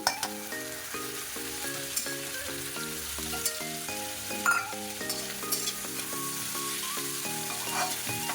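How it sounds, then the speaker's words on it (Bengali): Soybean chunks and potatoes fry together in a pan, a continuous close sizzle with occasional stirring scrapes, heard under a melodic background music track. "এখন আমরা সয়াবিনটা দিয়ে দেবো আলুর সাথে একটু সয়াবিনটা ভেজে"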